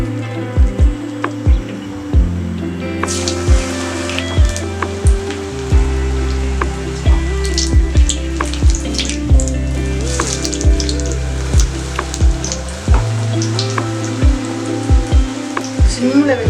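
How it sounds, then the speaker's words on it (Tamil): Kara bonda frying in hot oil in a home kitchen, a steady bubbling sizzle with crackling that runs throughout, while tonal music or a drone plays over it. "மிக்ஸ் பண்ணி வச்ச நம்ம கார போண்டாவை எண்ணெயில் போட்டுடலாம்"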